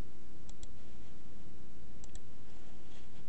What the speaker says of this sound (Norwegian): Klikker på objektiv og pluss.